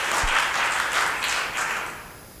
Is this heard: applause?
yes